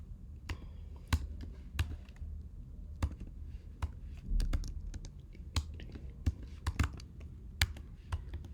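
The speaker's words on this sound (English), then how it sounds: "my typing is actually very bad and slow." Slow, uneven typing on a computer keyboard, with sparse, crisp key clicks spaced irregularly over a quiet background, no talk.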